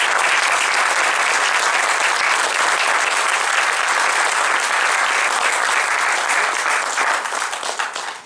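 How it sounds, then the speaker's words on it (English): A large audience at a graduation ceremony claps in steady, dense applause that fills the room for about seven seconds, then thins and fades out at the end. "So I would like to propose a big round of applause for our current president."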